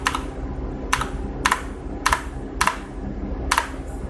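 Keys on a computer keyboard are pressed while the Linux fstab file is edited, giving six short bursts of close clicking over a steady background hum.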